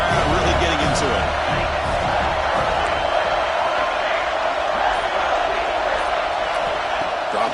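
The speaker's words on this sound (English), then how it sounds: "3rd down and the crowd really getting into it." Football stadium crowd roaring on a crucial third down, a dense, sustained wall of distant cheering and shouting that holds steady throughout with no break.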